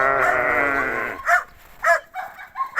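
A sheep at winter feeding time in minus 15 degrees lets out one long, loud bleat, followed by three or four shorter, sharper bleats close by.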